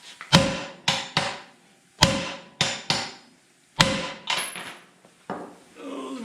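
A sledgehammer strikes a drilled brass drift on the front suspension of a 1931 Model A hot rod, giving about nine sharp, ringing metallic blows in an irregular rhythm, loud and close.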